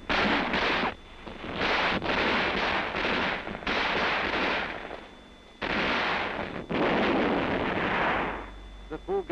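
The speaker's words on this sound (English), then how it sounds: "Each soldier begins firing at a maximum effective rate." Soldiers in a military training film fire weapons at a maximum rate while defending their position, heavy sustained bursts of gunfire and booming reports rolling continuously with brief gaps, loud and close with wind noise.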